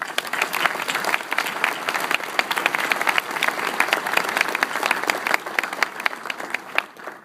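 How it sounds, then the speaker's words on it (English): Commencement audience at NC State University applauds a faculty member, many hands clapping in a lively, crackling burst that stays strong before thinning near the end. "So let's give Dr. Liming a round of applause."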